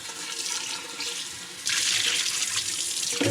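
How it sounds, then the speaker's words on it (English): Tap water runs into a pan while the pan is rinsed out, starting as a moderate hiss and then surging louder and brighter partway through as the flow strikes the metal, with no talking. "rinse your pan out"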